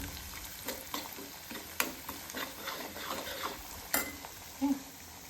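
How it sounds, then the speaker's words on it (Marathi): Spice masala roasts in oil for a Satara-style urad dal dish, giving a soft, continuous sizzle under repeated light scraping and stirring taps, with a small clink near the end. "हा मसाला तेलामध्ये छान भाजून घ्यायचा."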